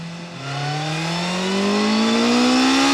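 A 2025 BMW S1000RR sport motorcycle in race mode revs up on the road, its engine tone climbing steadily and growing louder over a few seconds, close and alone with no talk.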